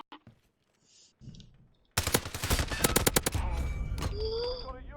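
Gunfire from a video game shooter: after quiet clicks, a loud burst of rapid automatic fire rattles off for over a second, followed by more game noise and ringing tones.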